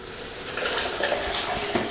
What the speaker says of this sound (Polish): strzelę sobie tutaj do tego na dodatek wodę z czajnika